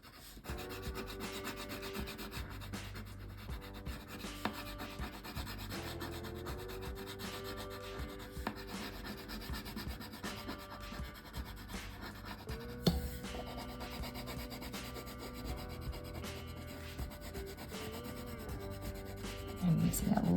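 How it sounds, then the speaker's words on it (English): Crayon stroked lightly across paper, a soft, continuous scratchy rubbing, faint and close, over a quiet tonal backdrop. "I'm using a light touch with this crayon."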